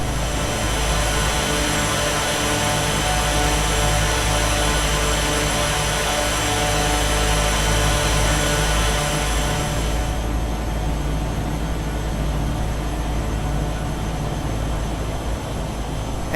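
Turboprop engine of a RealAir Turbine Duke in a flight simulator game, a steady loud drone with a whining upper tone that stays constant, its high hiss dropping away partway through, with no talk.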